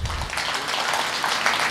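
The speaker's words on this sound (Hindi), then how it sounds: "तो अब आप ताली बजा सकते हैं इस बात पे।" Audience applause at a Hindi poetry recital, a steady crowd clapping that stays fairly loud through a short burst, with no talking.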